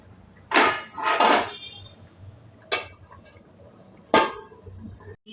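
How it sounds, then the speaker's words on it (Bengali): A metal lid clanks onto a pot of chicken cooking South Indian style, with about four sharp, close clatters spread over a few seconds and quiet stretches between them. "এখন আবার আমি ঢাকা দিই।"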